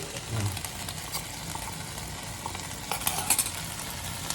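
Okra frying in a pan with coriander powder gets stirred, giving a low, quiet sizzle with soft scraping strokes and a few light metallic clicks near the end.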